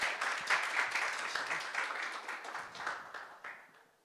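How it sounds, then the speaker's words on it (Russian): Lively applause from a lecture audience as someone is called up to the front, dense clapping that gradually thins and fades away toward the end. "Под бурные аплодисменты."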